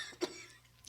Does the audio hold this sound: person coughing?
yes